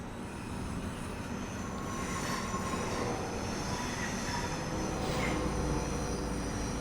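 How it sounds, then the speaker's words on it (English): Avanti train rolling into the adjacent platform at London Euston in a train simulator game, a continuous rumble of wheels on rails with faint squeals and clicks, steady and fairly close, with no talking. "there's an Avanti coming into the platform next to us"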